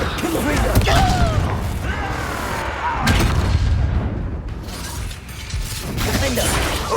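Magical Confringo blast spells in the Hogwarts Legacy video game: loud, dense booming impacts with crackling bursts around one and three seconds, layered over continuous battle noise and game sound effects.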